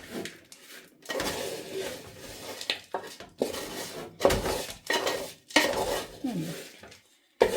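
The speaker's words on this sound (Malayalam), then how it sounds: "നമുക്കൊന്നുകൂടെ ഇളക്കാം നല്ലവണ്ണം ഇളക്കണം" Poha dry-fried in a pan and stirred steadily, a spatula scraping and rattling the flakes against the metal in long close bursts with brief pauses.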